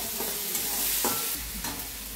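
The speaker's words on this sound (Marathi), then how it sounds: "ह्यात टाकूया कढीपत्ता। ह्याला आपण छान भाजून घेऊया" Curry leaves crackle and sizzle while roasting in hot oil for a spicy vada pav masala, a dense, continuous frying hiss with soft stirring scrapes, close up and with no talking.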